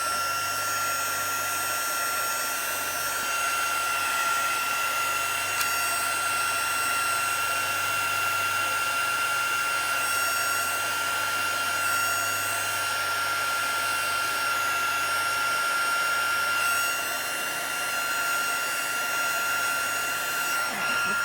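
Heat tool blowing a steady, continuous whir close by, drying stamped ink on a handmade faux sepia thank you card, with a constant airflow hum and no pauses throughout.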